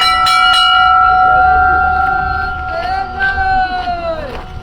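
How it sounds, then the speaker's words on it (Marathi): Hand bells ring loudly and steadily at a street protest over municipal taxes, clear sustained metallic tones with repeated strikes, a crowd murmuring and voices behind them. "बजाओ घंटा बजाओ"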